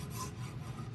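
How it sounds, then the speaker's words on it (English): A number 49 rasp filing a wooden ramrod handle, a short burst of coarse, steady rasping close by with no voices. "This is the number 49 rasp."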